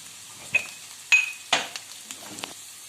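Peppers and chicken liver fry in a pan with a soft sizzle, broken by a few sharp stirring scrapes and light metallic clinks from a utensil, heard close and without any voices.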